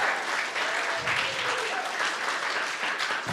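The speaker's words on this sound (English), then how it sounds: "Can we get one more round of applause for Miss Lane Nalu?" Sustained audience applause at a symposium, a dense, even roar of many hands clapping that stays loud and steady from start to finish with no talk over it.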